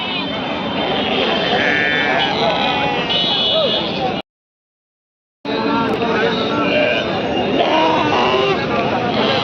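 Sheep and lambs bleat over and over at a busy Friday sheep and goat market in Kundarapalli, loud and near amid crowd babble and people talking, with a brief gap of silence midway.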